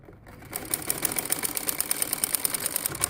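A sewing machine stitching the kunda of a Patiala salwar, running in a fast, even rhythm of close, sharp clicks after a brief quiet start.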